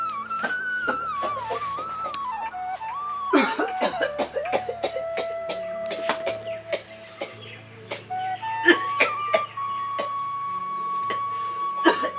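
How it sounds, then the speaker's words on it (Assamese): An elderly father in an Assamese home coughs in several short, sharp bursts. Background music plays softly and birds chirp faintly nearby. "আজিকালি কাহঁতে মোক বৰকৈ আমনি কৰিছে"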